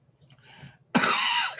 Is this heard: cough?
yes